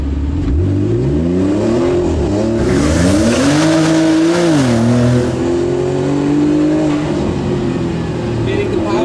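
A Fenyr SuperSport car with a Kline Valvetronic exhaust revs loudly and close, its engine note climbing, dipping and climbing again in repeated rising sweeps over several seconds, with a voice talking over it.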